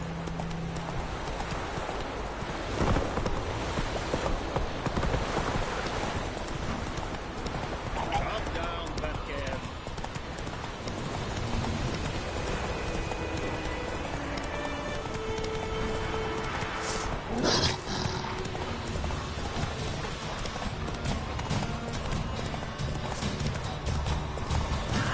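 Horse hooves clip-clop at a gallop in The Witcher 3 game, a steady rapid beat under game sounds with a whinny, while someone talks over it.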